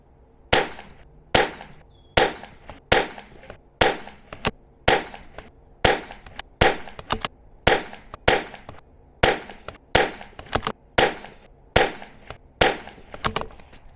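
Eley Match .22 rifle ammunition fired in a steady series of about twenty sharp, fairly close shots, spaced roughly half a second to a second apart, with brief decays and no talking.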